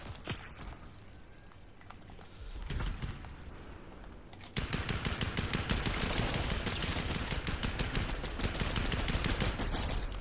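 Rapid bursts of gunfire from a shooter video game, a steady stream of shots that grows denser and louder partway through, with faint footsteps underneath.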